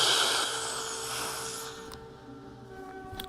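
Close, sharp inhale during breathwork as the last bit of air is squeezed in, a breathy hiss that fades into quiet after about a second and a half.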